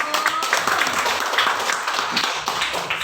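A short burst of clapping from a group of teachers and parents at a school dissemination session on positive culture, brisk and fairly close, with scattered hand claps running through the whole few seconds.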